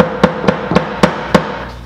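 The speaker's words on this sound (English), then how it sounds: "you're gonna need something like a rubber mallet or something." Five sharp knocks of a rubber mallet tapping the wooden panels of a DIY snake cage, evenly spaced and close, each a short hollow thud.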